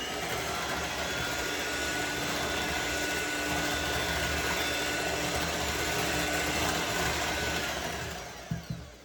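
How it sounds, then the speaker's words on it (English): An electric mixer whirs continuously as flour is folded into hot milk cake batter, a steady loud motor drone that winds down near the end with a few soft knocks. "just give it a light mix just until we get that flour in"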